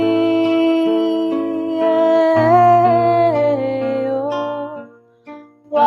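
Barré chords strummed on guitar in a song, ringing sustained chords that shift through a few changes, clear and close, trailing off into near silence.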